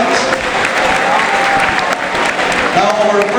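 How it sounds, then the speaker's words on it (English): Loud, dense applause from a large school audience at an awards moment after a Mass for St. Ignatius of Loyola, continuous clapping with a few shouts mixed in. "Let us give the class of Marana a big round of applause"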